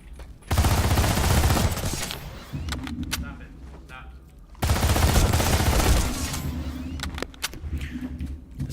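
Sustained bursts of rapid automatic fire from a TR Infiltrator weapon in a shooter game, two long loud strings of close shots with quieter gaps between, while someone talks over them.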